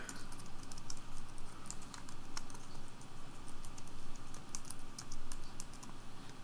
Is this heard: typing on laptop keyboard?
yes